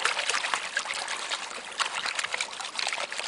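Water sluicing through sediment in a gold pan during panning at a gold resort in Nome, Alaska: a continuous bright trickle and slosh, close and fairly soft, with no voices.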